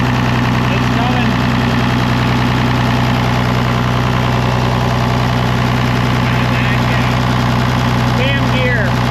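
An International 1086 tractor engine runs loud and close in a continuous steady rumble, with a possible hydraulic whine, while voices talk over it.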